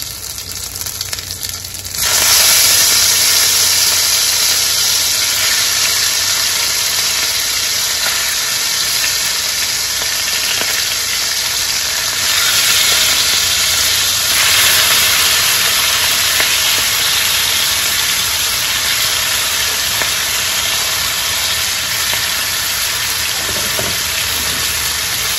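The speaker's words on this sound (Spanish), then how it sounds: "Vamos a comenzar friendo primero lo que es la mantarraya." Stingray pieces frying in hot lard, a loud, steady hissing sizzle that jumps up as the food goes in and continues without pause for the length of the clip.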